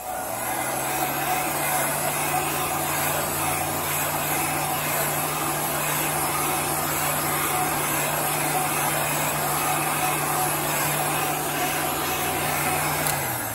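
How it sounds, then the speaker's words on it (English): A heat gun blows steadily over a chalk-painted sign, a loud, unbroken whirring roar with a constant hum beneath it, close by and running throughout. "I'm going to take my heat gun and I'm going to dry this."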